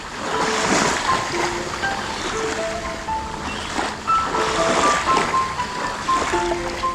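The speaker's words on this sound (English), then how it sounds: "waves coming. I'm going to move back before I get wet." Ocean waves wash onto the shore at an island on the Gold Coast in a loud, continuous surging rush, with wind noise and a few bird calls above.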